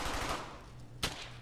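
Gunfire from the World War II shooter Brothers in Arms: Hell's Highway, with a steady spray of automatic fire and one sharp, louder shot standing out near the end, no voices.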